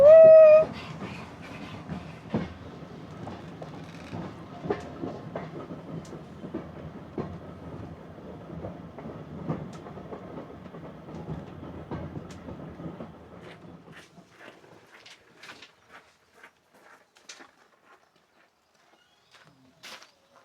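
Steam railway carriage wheels clack rhythmically over rail joints at a steady pace, then slow and fade to quiet near the end; Isle of Wight Steam Railway.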